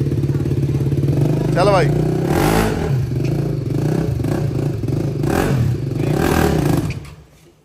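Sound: motorcycle engine starting and revving

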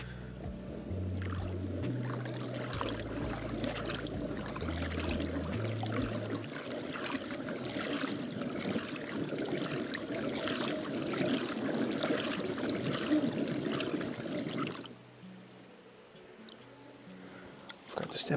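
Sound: water sloshing as the SpinPan is spun

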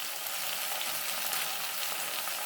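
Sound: brinjal (eggplant) sautéing in a pan

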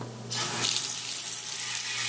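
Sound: water running from kitchen tap

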